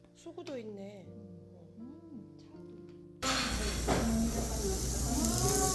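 An electric kettle in a hotel room comes to a boil for tea, a soft hum giving way to a sudden loud, steady rushing hiss that holds to the end, with someone speaking briefly beforehand.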